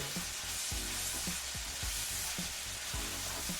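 Cabbage and smoked sausage frying in oil in a pan, with seasonings being stirred in: a loud continuous sizzle broken by repeated scraping and clunking strokes of a utensil in a loose rhythm, close up and without talk.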